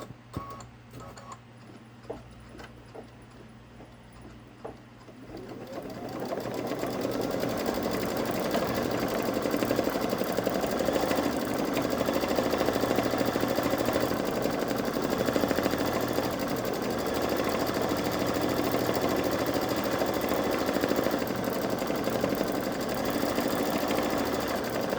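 A Baby Lock Solaris Vision embroidery machine stitching a flower design: a few soft mechanical clicks, then the motor spins up into a steady, loud, rapid rattling stitch rhythm that continues evenly to the end.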